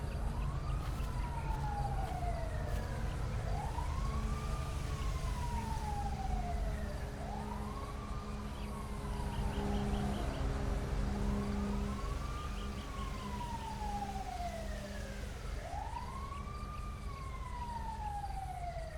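A video game ambulance siren in LSPDFR, the police mod for Grand Theft Auto V, wails in a steady repeating rise-and-fall sweep over a low engine rumble during a patrol in Grapeseed, continuous and fairly loud with no talk.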